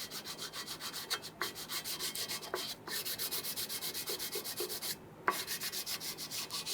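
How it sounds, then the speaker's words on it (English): Old gasket material is scraped off the engine of a 1994-2004 Ford Mustang 3.8L V6 with a flat piece of wood in fast, rhythmic, close rubbing strokes, broken by a few brief pauses. "if you use a flat piece of wood and gently work on that, you want to make sure that you get rid of that old gasket material"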